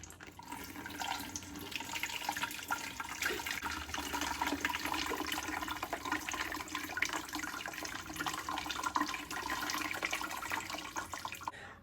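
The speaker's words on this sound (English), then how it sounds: "So now we're about to strain them." Steeped hibiscus tea is strained, giving a faint, continuous splashing and trickling of liquid pouring through a strainer, steady throughout without pauses.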